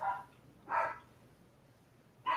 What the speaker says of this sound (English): Apologize for my dogs.